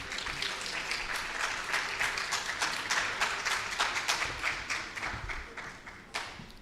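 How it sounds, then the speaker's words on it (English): Audience applause at a university corpus linguistics and emerging technologies conference, a lively stretch of many hands clapping in an indoor hall that gradually thins out toward the end. "with a round of applause"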